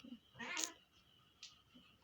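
A cat gives a brief, faint meow amid quiet surroundings, a single short call followed by a small squeak, with soft background voices.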